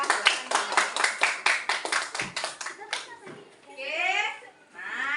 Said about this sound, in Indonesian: sekali lagi tepuk tangan untuk kelompok 3